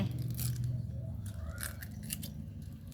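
Shells are peeled off boiled eggs in a rural Isan kitchen, a close, quiet crackling and scraping that continues steadily under low background noise.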